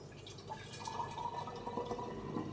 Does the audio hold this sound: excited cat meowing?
no